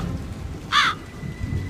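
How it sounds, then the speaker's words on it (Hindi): Steady heavy rain pours through a thunderstorm, with a low rumbling bed throughout and one brief sharp higher burst in the middle, then a faint lingering tone. "जिसके साथ झमाझम बरसात होती है। इतना तेज तूफान"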